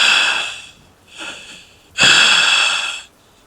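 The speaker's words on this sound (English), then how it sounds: "And then I heard the breathing," Heavy breathing just outside a door, heard as three loud, breathy exhalations close by, the last one the longest and strongest, with no talking.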